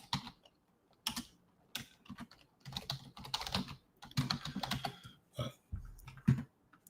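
Someone typing on a computer keyboard close by, irregular bursts of rapid key clicks broken by short pauses, with no talking.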